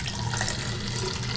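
Filtered Brita water pours into a water bottle in a brief, steady splashing stream, close and fairly loud, with no talking.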